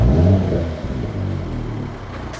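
A 2021 Mercedes-AMG E53 wagon engine starts with a deep burst that settles into a low, even rumble, close and fairly loud with no talking.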